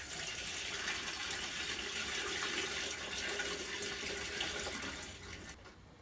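Water pours steadily into a bucket to make manure tea, a continuous rushing gush that holds for several seconds and then tapers off near the end.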